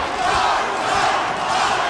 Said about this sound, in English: They're cheering for Ott.